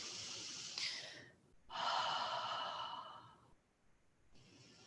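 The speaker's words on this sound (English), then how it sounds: "So let's breathe into that refreshing, cleared space." Deep breathing during a yoga session: a long audible exhale, then a fuller drawn-out breath, followed by quieter breathing, close and unaccompanied by speech.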